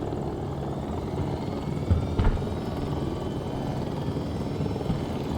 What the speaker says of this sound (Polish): Ja wziąłem śmigło, ale będę tego żałował pewnie.